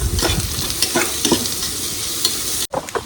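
Ginger garlic paste being sautéed and stirred in a pan with onions, close scraping strokes over a bright continuous sizzle, with a brief dropout near the end.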